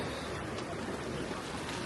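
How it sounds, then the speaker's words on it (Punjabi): Surf churning on the sea at a sandy Cyprus beach near Kato Paphos: a steady, dense wash of water noise with light wind, fairly close and unbroken. "ਸਮੁੰਦਰ ਠਾਠਾ ਮਾਰਦਾ"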